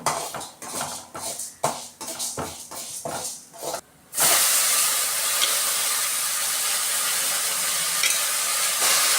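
Ingredients frying in a pan until golden: several sharp scraping stirs of a spatula in the first seconds, then a loud, steady sizzling hiss as more goes into the hot oil, close and unbroken.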